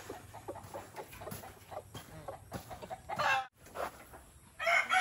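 Backyard chickens cluck in repeated short bursts close by, with a rooster crowing and livelier squawks toward the end, no one talking over them.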